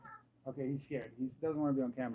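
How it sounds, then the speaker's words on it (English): A Maine Coon cat meowing indoors, several short, close vocal cries in quick succession while a person talks over them. "that's my cat, and he is a Maine Coon."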